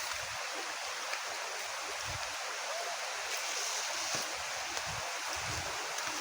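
Strong, continuous rushing of very cold, clear stream water close by, a dense steady hiss and splash with no pauses.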